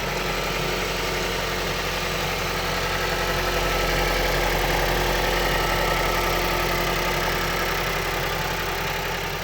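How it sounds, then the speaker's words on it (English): A 2010 Mazda Biante's 2.0-litre chain-driven engine idles steadily with a constant low hum and no voices, unchanging throughout. "Tidy 2-liter chain-driven engine."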